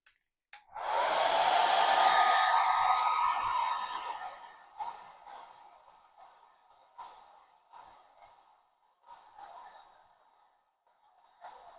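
A hair dryer blows over a painting in progress, starting abruptly and roaring close and loud for about three seconds before fading into softer, uneven bursts of airflow.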